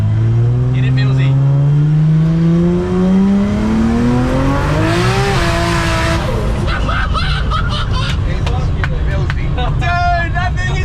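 A V8-swapped Barra-powered Bedford seven-seater revs hard and loud, its engine note climbing steadily before tires squeal and skid in a long screech, with people talking over it.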